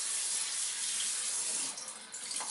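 Water runs from a tap over mung bean sprouts in a steady, close hiss of splashing that fades a little toward the end.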